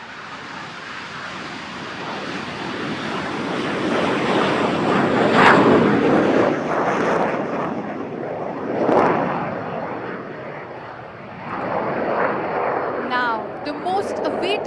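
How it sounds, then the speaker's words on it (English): An intermediate jet trainer takes off at the Aero India 2025 air show at Yelahanka. Its loud, sustained jet roar swells and fades, with a public-address voice talking over it. "Following the HTT-40 takeoff will be the takeoff of the intermediate jet trainer, right in front of you."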